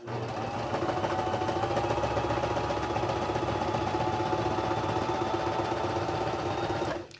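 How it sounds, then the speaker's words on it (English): A simple manual sewing machine runs steadily along the edge of fabric for a small stocking ornament, a continuous mechanical whirring and rapid clatter lasting about seven seconds before stopping abruptly. "I have a manual sewing machine, super simple."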